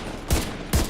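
Two sharp gunshots from a firearm in The Division 2, spaced about half a second apart, loud and close, with no talking.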